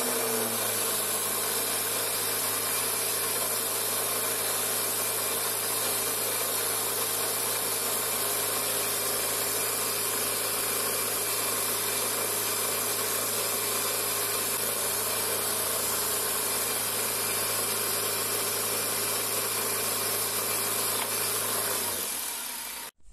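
A powered tool grinds while a 2.5 mm drill bit is sharpened, giving a steady loud whirring hum with a harsh hiss that runs unbroken for over twenty seconds and then stops abruptly.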